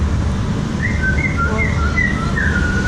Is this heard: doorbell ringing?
no